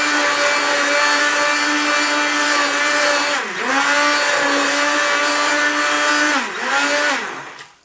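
A stick blender runs close up with a steady high whirring motor tone that dips twice as the load changes, then winds down at the end.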